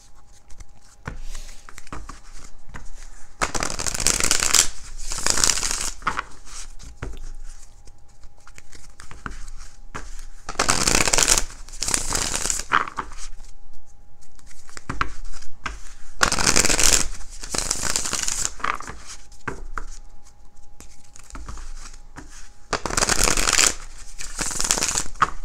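Tarot cards being shuffled by hand, riffling in several distinct bursts of crisp papery rustle separated by quieter gaps, close and fairly loud.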